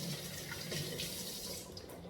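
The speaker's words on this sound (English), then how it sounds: "What I'm going to do now is just to wash my hands." Running tap water while hands are washed in a kitchen, a steady close splashing hiss with small shifts as the hands move under the stream, no voices.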